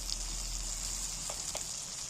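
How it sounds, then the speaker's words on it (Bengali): Fennel and coriander powder fry in a pan with a soft, steady sizzle, a few faint stirring taps breaking the even hiss. "এই দুটো মশলাকে একটু নাড়াচাড়া করে নিচ্ছি"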